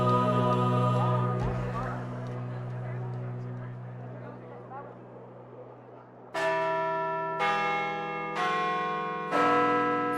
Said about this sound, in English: Rising above Centre Block is the iconic Peace Tower, with its chorus of bells.